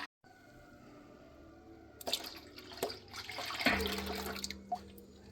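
Goat's milk, a gallon of it, poured into a pot: a steady liquid splash that swells from about two seconds in, louder and more turbulent near the end, with no talking.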